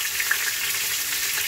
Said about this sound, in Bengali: তেলটা ভেজে নিচ্ছি